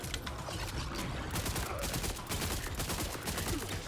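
Rapid submachine-gun-mode weapon fire from a video game, a dense continuous burst of shots with mechanical clatter, loud and close throughout.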